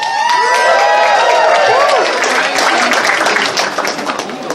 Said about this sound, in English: I want everyone to give a huge round of applause for our next dancer.